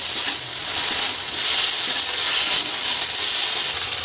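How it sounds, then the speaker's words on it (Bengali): Spice masala frying over a high flame, a loud, dense, continuous hiss and sizzle heard up close, gently swelling and fading with no pauses and no talking. "এই মশলার সাথে হাই ফ্লেমে একটু ভাজা ভাজা করে নেব"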